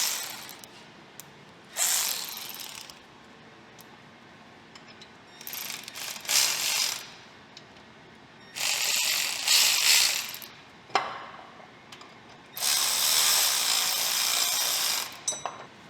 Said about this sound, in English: we're gonna use the ratchy-datchy